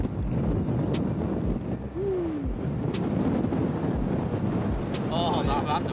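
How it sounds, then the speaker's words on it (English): Steady wind buffets the microphone with a constant low rumble throughout, with brief faint voices and sounds poking through near the end. "Oh my god, it's super kind of windy like."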